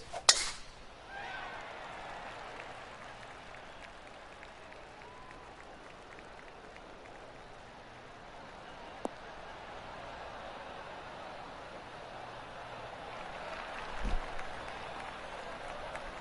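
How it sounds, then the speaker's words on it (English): Spectators in PGA Tour 2K23 give a polite golf clap, soft and distant, with scattered patters near the start that fade, a lone sharp tick midway and a brief swell of applause near the end. "Oh, golf clap."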